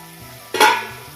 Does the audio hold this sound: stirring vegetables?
yes